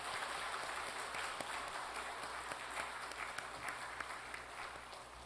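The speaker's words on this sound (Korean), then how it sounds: "우리 청년부 애썼는데 우리 박수 한번 크게" A Sunday church congregation applauds its youth group with a steady wash of clapping. The sound is faint and distant and tapers slightly toward the end.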